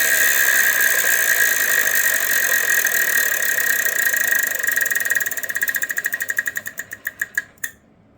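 A Wheel of Fortune game-show wheel is spun, its pointer chattering rapidly against the pegs in a steady stream of ticks that gradually slows into spaced, distinct clicks before stopping, with no talk over it.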